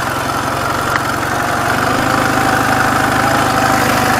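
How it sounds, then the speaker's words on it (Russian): A motorcycle on mud tires runs with a steady, close, loud engine drone and a low rhythmic thrum throughout, without speech. "на грязевой резине, ребята, видим, как мотик идет"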